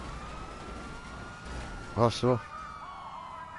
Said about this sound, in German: Meine Sirene läuft noch.